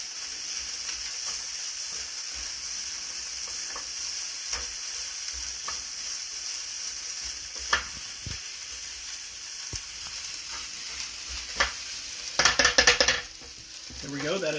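Chicken fried rice stirred and tossed in a hot pan, a steady sizzle with repeated scraping strokes of a utensil, a brief clatter of rapid knocks near the end.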